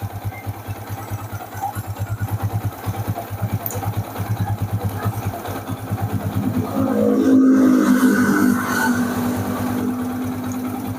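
A Yamaha Vixion motorcycle engine idles steadily with a fast, even mechanical chatter, loud and close, rising slightly in the middle before settling back.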